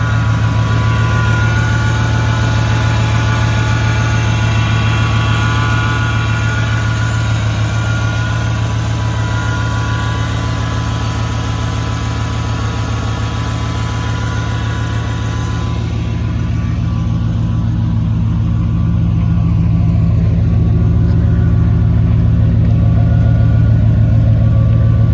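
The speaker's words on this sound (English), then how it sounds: "Here we are, test drive 94 GMC 4x4." A 1994 GMC Sierra 4x4 pickup engine runs steadily, a loud close low rumble with a constant drone that stays even throughout and has no talking.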